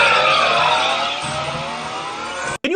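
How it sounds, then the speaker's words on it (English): A car engine revving hard, a loud, rising whine with a sweeping pitch climb like a race car accelerating past, cut off abruptly near the end. "Yeah, listen to that engine."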